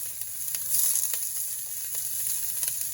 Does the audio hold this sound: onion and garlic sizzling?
yes